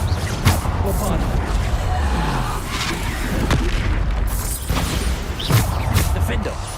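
Bombarda spell blasts in the Hogwarts Legacy video game, deep booming explosions that thump repeatedly under a busy combat soundscape, with a voice shouting over the action.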